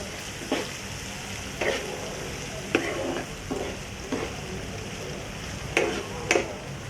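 Cabbage shreds frying in a pan with a soft, low sizzle, broken by about half a dozen spaced stirring scrapes and clinks; quiet overall with no talking.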